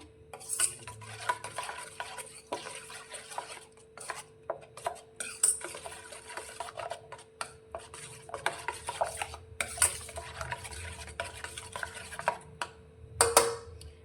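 Wheat flour and gram flour being stirred together in a bowl, with repeated soft scraping and clinking strokes of a utensil at close range and no voices.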